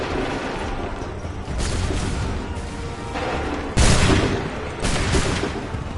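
Musket volleys roar in an Assassin's Creed III battle, dense overlapping gunfire rolling on continuously with heavier booming bursts near the middle and end, loud and close throughout.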